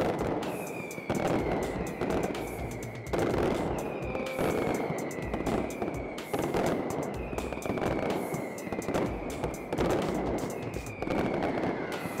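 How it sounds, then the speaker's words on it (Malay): Mascletà firecrackers at a Valencia festival fire in a dense, relentless barrage of loud bangs with whistling streaks, bursts piling up continuously with no pauses. "Dia akan ada satu pembakaran mercun yang akan menggegarkan semua bangunan-bangunan kat sini."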